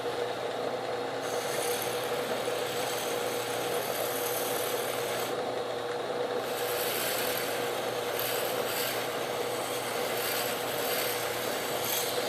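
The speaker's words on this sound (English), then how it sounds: "So this is my poor man's buffing wheel." A soft buffing wheel charged with green polishing compound spins on a drill press at slow speed, rubbing against a 1095 triple-hamon blade with an uneven, rasping hiss that surges in bursts over a low motor hum.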